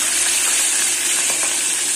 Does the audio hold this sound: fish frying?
yes